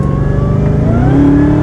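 A Dodge Hellcat Redeye accelerates hard from a roll during a 60-130 run, its engine roaring loudly and continuously with rising pitch as it climbs through the gear, heard from inside the car.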